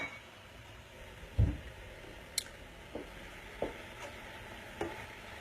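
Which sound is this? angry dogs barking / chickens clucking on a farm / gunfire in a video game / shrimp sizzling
shrimp sizzling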